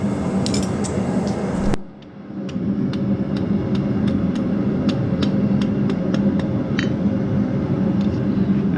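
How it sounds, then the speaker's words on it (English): A smith hammers hot high-carbon steel over the horn of an anvil while forging a fire steel. About a dozen sharp metallic strikes land at a steady, even pace over a constant roaring forge fire. "just going over the horn of the anvil. I'm hammering"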